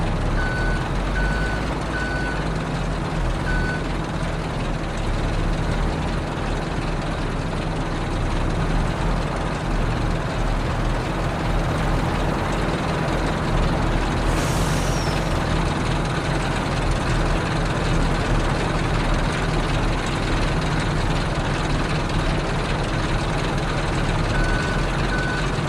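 A forklift in Farming Simulator 22 on an old Polish farm reverses: a steady engine drones throughout, and early on a few evenly spaced reversing beeps sound over it.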